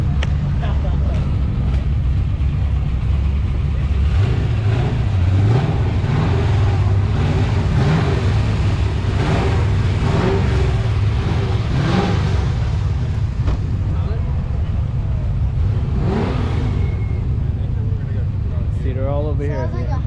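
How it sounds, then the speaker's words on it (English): At a car meet, a hot rod with an LS V8 engine rumbles loudly and revs as it accelerates past, with voices talking over the steady low engine roar. "Sounds like a hot rod, right?"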